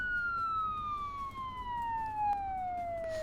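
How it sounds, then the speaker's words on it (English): A police siren sounds from far off as a steady, slowly falling wail over a low hum, used as a sound effect in a Cyberpunk 2020 tabletop role-playing session. "You guys hear sirens in the distance."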